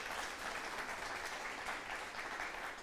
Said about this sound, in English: Let's give Chris Combs one more round of applause for being here this evening.